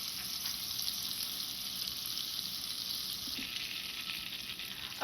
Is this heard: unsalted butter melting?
yes